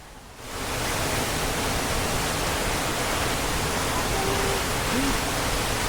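Waterfall near Bukoba, Tanzania, heard up close as a loud, constant rushing roar that swells in after a brief quieter start and stays steady throughout, with a faint voice briefly over it.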